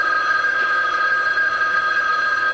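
A telephone rings in an indoor scene from a 1995 TV soap opera, a steady loud electronic trill held continuously throughout with no talk over it.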